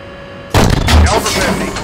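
A tank cannon in the Steel Beasts combat simulator fires once, a loud, sudden near blast that booms and then rolls into a long, rumbling decay. Before it comes a quieter hum of engine and radio noise.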